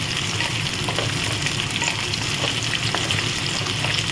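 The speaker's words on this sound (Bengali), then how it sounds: "পেঁয়াজ, রসুন, কাঁচা লঙ্কাটা আমি ভেজে নিয়েছি এরকমভাবে" Onion, garlic and green chillies fry in hot oil for a chicken kofta curry, giving a steady, close, continuous sizzle with faint crackles throughout and no talking.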